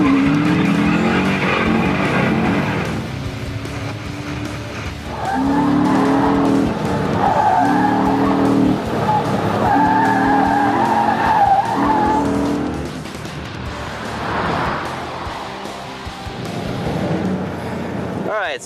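A car lapping a race track with stability and traction control switched off, engine loud and close as tires squeal and skid through corners, with surges of revving between slides.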